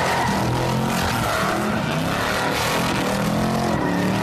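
A Corvette C3's 5.7-litre V8 roars steadily and close, a thick, unbroken engine drone with shifting low harmonic tones as it drives on, no voices heard.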